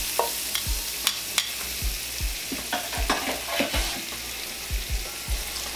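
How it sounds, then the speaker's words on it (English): Onion and garlic fry in a pan under a soft continuous sizzle, while a spoon stirs and scrapes at a steady rhythm, giving about a dozen close, thudding knocks against the pan. "Another minute on this with the garlic"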